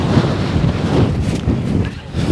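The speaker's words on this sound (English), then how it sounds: "That was a massive gust of wind." A strong gust of wind buffets the microphone outdoors during a thunderstorm chase, a loud, steady roar lasting throughout with a brief dip near the end and no talk.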